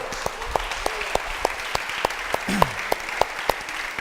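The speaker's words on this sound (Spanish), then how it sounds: "le damos un aplauso al Señor" A church congregation applauds the Lord with sparse, distinct claps in a loose rhythm, a few hands audible against a quiet room, with a brief low tone sliding in the middle.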